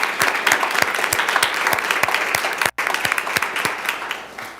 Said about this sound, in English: So a round of applause, please, to all of our wonderful coaches who are here this evening.